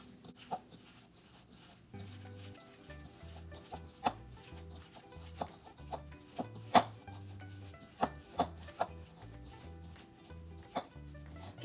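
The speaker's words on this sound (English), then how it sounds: "so just mix it in with your hands" Ground meat and pepper are worked together by hand for Fleischkuechle, giving quiet, irregular squishing and slapping sounds with soft thumps against the bowl, close up and without talk.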